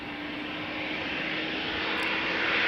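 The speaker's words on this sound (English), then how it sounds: "The bird we're now spotting is an E2 Embraer 195, KLM flight 1185, going to Bergen in a few seconds" A KLM Embraer 195 E2 jet departing Amsterdam Schiphol for Bergen, its engines a broad, steady roar that slowly swells louder with no voices over it.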